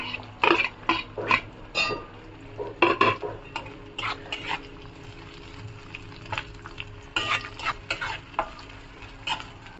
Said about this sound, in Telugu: ఇందులో మనం కట్ చేసి పెట్టుకున్న వెల్లుల్లి ముక్కలు వేసుకొని లైట్గా ఫ్రై చేసుకోవాలి.